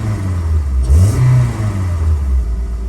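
A Ford Escort with a swapped Honda K24 engine runs close by, a loud steady engine note that rises in a brief rev and settles back, no talk.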